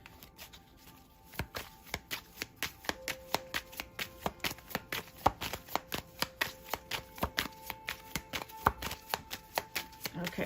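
Tarot cards are shuffled by hand in a steady run of crisp riffling snaps, repeated roughly every half second, close to the microphone in a quiet room with a faint steady hum behind.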